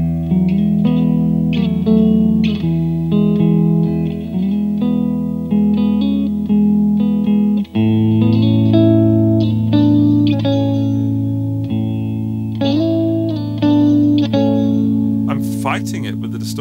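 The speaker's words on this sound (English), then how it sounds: "Distortion and the overdrive" A distorted electric guitar plays sustained chords and notes with a thick, saturated overdrive tone and some effects shimmer.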